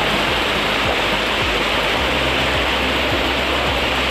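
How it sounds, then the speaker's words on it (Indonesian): A waterfall fed by mountain water in Tasikmalaya pours loudly and continuously, a dense, steady rushing roar close by with no voices. "Nah, di sini ada air terjun juga. Airnya lagi lumayan besar ini."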